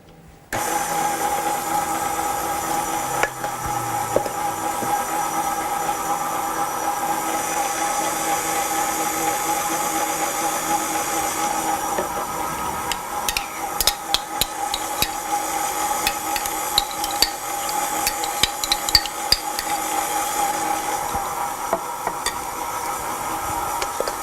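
Vanilla cake batter is beaten in a bowl with a continuous low mechanical whir, fairly quiet and steady. Light clicks and scraping sounds become more frequent in the second half.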